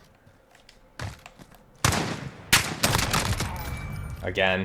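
Bursts of MK 20 SSR rifle fire ring out in Call of Duty Modern Warfare, several loud sharp shots in quick succession mixed with game sounds, while someone speaks briefly.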